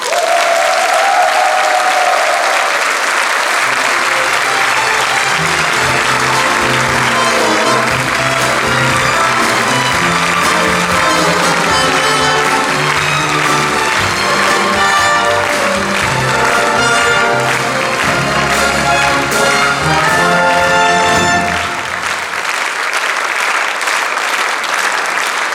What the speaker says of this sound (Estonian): Aplaus teile!